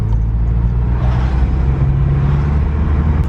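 VW Polo GTI 6C with a Gravity Performance exhaust, giving a steady, loud, low rumbling drone close by.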